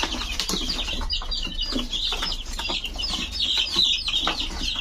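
Chickens clucking and chirping close by in a busy chorus of short repeated calls, with some wing flutters, no one talking.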